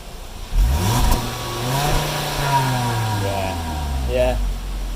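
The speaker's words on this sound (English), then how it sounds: "Can you rev it one more time?" A Volkswagen Golf with a straight-piped exhaust revs once hard, the engine note rising sharply then sliding back down to idle, with a second brief blip near the end.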